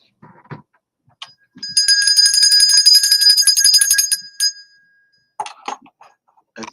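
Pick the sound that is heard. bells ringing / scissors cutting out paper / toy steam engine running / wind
bells ringing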